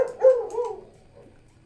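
A dog lets out a single drawn-out, whining bark or yelp indoors, fairly close and loud, followed by quiet.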